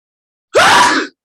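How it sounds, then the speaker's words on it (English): One short, loud human sneeze up close, a sharp rising onset that breaks into a brief breathy burst and ends quickly, with no other sound around it. "Was that last one a real sneeze, or are you mistaken?"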